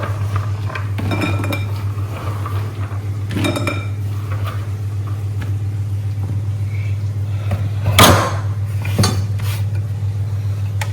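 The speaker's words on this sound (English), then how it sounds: "We'll go in and put them back in the bowl." Pitted dates go back into a bowl in a home kitchen, with scattered light clinks and knocks of a utensil against the dish over a low steady hum, one louder clatter near the end.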